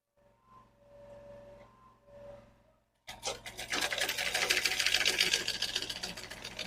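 Sewing machine running a continuous stitching burst on a bonnet seam, loud and close, starting abruptly after a few quiet seconds of faint background hum and lasting several seconds without talk.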